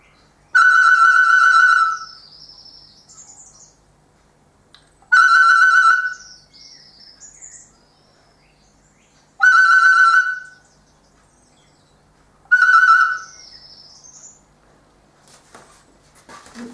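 Birds whistle and call in answer to recorder music. Four separate bursts of clear, loud whistling come at regular intervals, each followed by a short rising or falling chirp, with near silence between them.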